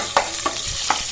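Onion goes into a pan and is stirred while frying for pulao, with a steady sizzle and a few soft scraping strokes.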